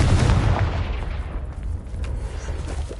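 Confringo blasting spell explosions cast in Hogwarts Legacy on PS5: a dense, continuous rumble of booming blasts, loudest at the start and then holding steady, with no voices.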